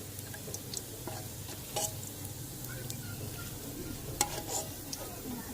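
Chicken and rice browning in a pan in a village kitchen: a soft continuous sizzle with occasional scraping stirs and light clicks of a utensil against the pan, fairly quiet and steady.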